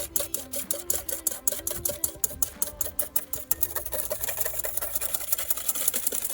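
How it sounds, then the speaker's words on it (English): Instant coffee mixture whisked by hand for whipped dalgona coffee, a fast steady rhythm of rapid clicking, tapping strokes that repeats continuously, close and fairly loud with no talking. "So you need to whisk it up until it gets nice, thick and creamy."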